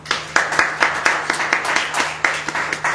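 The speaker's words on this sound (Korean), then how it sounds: "우리 하나님께 영광의 박수 올립니다" A church congregation breaks into a round of applause in praise to God, a dense spread of hand claps with sharper individual slaps standing out, holding steady over a faint constant hum for the whole stretch.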